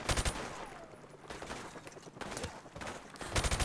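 Rapid gunfire bursts from Modern Warfare Remastered, loud and dense at the start and end with scattered shots and game effects in between, no talking.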